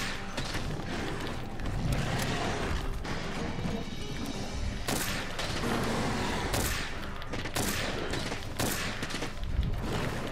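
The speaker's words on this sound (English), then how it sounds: "Shoot it in the belly. Shoot it in the fat belly." Rapid gunfire at a Barroth in Monster Hunter World, a busy clatter of repeated shots, crashes and impacts running continuously for about ten seconds amid chaotic game sounds.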